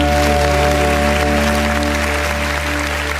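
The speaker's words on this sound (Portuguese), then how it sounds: "E as palmas exaltam o nome." Church congregation clapping along during a Brazilian evangelical online worship service, a dense steady wash of applause mixed with sustained music tones, loud and continuous throughout.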